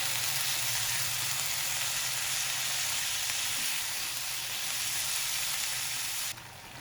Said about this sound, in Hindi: ऑयल डायरेक्ट से ही इसके अंदर हम अपनी शामिल कर देंगे चिकन को।